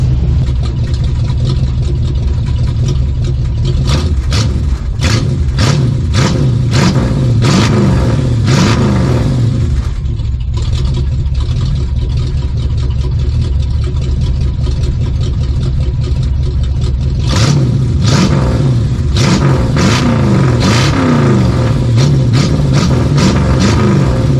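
A Plymouth Fury engine revs hard through loud exhaust pipes, with repeated throttle blips and roaring bursts between stretches of rumbling idle, close and very loud.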